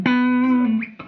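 Sustained guitar note through a Dual Tap Delay pedal into an amp without built-in reverb, ringing with added reverb and a faint chorus shimmer, followed by a second brief plucked note near the end.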